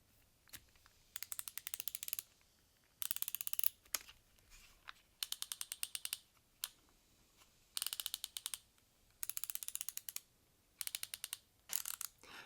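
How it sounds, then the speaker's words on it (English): PB Swiss ratcheting screwdriver mechanism clicking in quick bursts of rapid ticks, each burst about a second long, separated by short pauses, close and crisp with no talking. "Just a more muted sound with the ratcheting system here."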